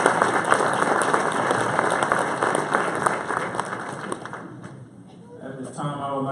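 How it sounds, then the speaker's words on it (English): Audience at a Dr. Martin Luther King, Jr. community celebration claps steadily, a dense sustained round of hand clapping that fades near the end as a voice begins speaking. "Give another hand clap for those who serve the community well."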